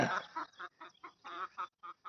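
A Paschima Nemali fighting rooster gives a run of short, close clucking calls, roughly eight quick bursts with brief gaps between them and no other sound.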